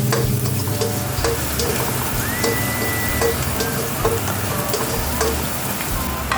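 Garlic sautés with ginger in hot oil, crackling in a loud, steady sizzle close up, with a few clicks and scrapes of stirring.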